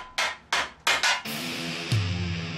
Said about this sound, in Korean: 다양한 망치를 바꿔가며 은판을 두드려 조금씩 모양을 잡아갑니다